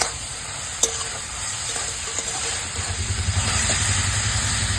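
Thor dalna, a banana-stem curry, stirred with ghee and sugar in a hot pan: a steady sizzle with scraping strokes of a spoon against the pan and a faint background hum, no talk.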